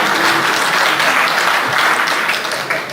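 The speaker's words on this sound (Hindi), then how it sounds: "इस पर भी ताली बजा दीजिए" An audience at an astrology conference gives a steady, loud round of applause, dense clapping from many people throughout.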